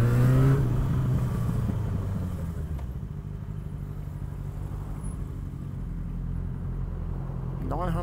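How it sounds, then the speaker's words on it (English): Engine rumble of road vehicles idles and passes nearby, a low steady drone of traffic with a car revving briefly at the start. "Oh, I'm stuck in traffic."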